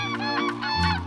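Large geese-like birds on a German lake in spring, giving loud, harmonic honking calls that repeat in quick overlapping bursts close by.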